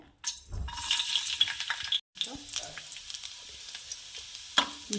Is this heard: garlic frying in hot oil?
yes